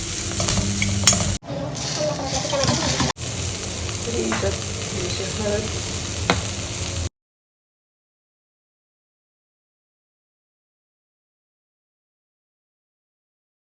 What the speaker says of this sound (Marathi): मशीन चालू आहे त्याचा जरा तुम्हाला आवाज येत असेल